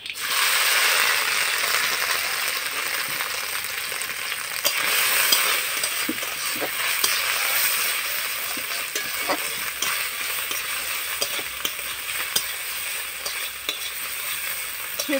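Grated soybean crackles and sizzles in hot oil with cumin and mustard seed in a kadai, a steady close frying hiss broken by repeated scraping stirs of a spatula against the pan, with no talking.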